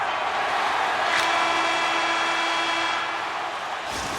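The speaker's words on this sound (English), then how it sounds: "There's the horn." A period-ending arena horn sounds in the NHL 26 hockey video game, one sustained steady tone of about a second and a half over constant crowd noise.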